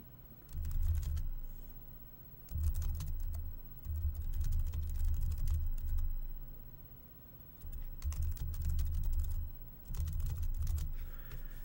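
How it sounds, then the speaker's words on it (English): Typing a letter on a computer keyboard in Microsoft Word: bursts of close, quick key clatter in several runs with short pauses between, with no talking. "and then start a new line, and then type in your letter."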